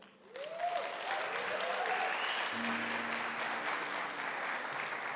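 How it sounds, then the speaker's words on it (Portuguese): A church congregation applauds the media team, broadband clapping swelling in quickly and holding steady and fairly loud, with a voice briefly rising over it early on. "Vamos aplaudir a galera da mídia, meu Deus do céu."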